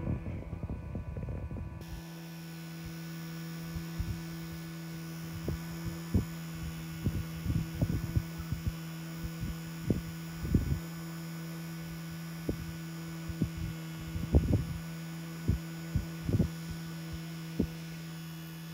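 A cheap unbranded green handheld electric fan runs close by with a steady low motor hum, broken by scattered soft knocks and thumps.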